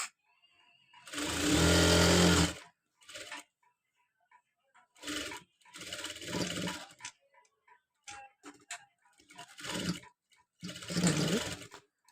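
Sewing machine stitching the front part of a blouse, running in several bursts of a few seconds each with short quiet gaps between, loud and close with no talking.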